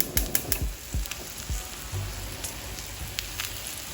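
Spinach wrap sandwich frying in a pan, a steady, soft close sizzle with scattered crackles and pops and a few light knocks, heard alone without talk.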